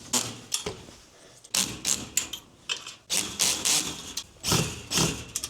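A power drill set to a low clutch drives fasteners into a heavy-duty garage storage rack in short, loud, close bursts of whirring and ratcheting clicks, separated by brief pauses.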